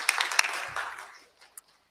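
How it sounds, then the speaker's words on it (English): Audience applause for speakers from Boston College at a university rivalry event, a burst of clapping that quickly thins and fades out within about a second and a half, leaving a few stray claps. "Can we give them a warm round of applause?"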